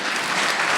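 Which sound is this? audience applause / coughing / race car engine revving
audience applause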